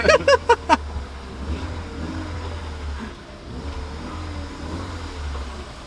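A BMW E36 engine runs at a steady low rumble, its clutch being ridden, after a few quick high chirps at the start.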